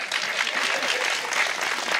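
An audience at a Hindi comedy poetry performance breaks into loud, dense, continuous applause that holds steady for a couple of seconds.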